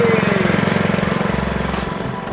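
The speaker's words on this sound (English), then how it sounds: "All right, so it's power wash time." Gas pressure washer running while power washing a house before painting, a close, loud chugging engine with a fast pulsing rhythm and a broad spray hiss over it, steady throughout.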